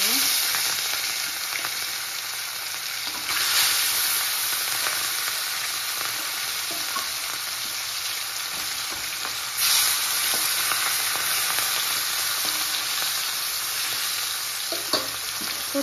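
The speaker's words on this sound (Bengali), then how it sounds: "মাছগুলো পুরো কড়া করে ভেজে নিয়েছি, যেহেতু রুই মাছ, তো একটু কড়া করে ভেজেছি।" Pieces of rohu fish fry in hot oil in a pan, giving a dense, continuous sizzle that stays loud and close, with brief surges and a few faint clinks and no speech.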